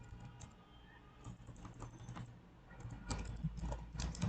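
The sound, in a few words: typing a CSS comment on a computer keyboard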